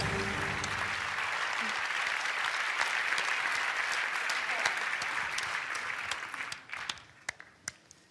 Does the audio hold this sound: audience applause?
yes